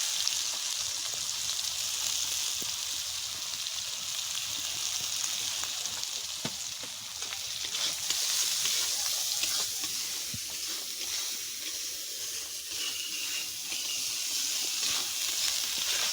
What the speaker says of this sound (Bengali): ভালো করে একটু মশলাটাকে ভালো করে ভেজে নেব।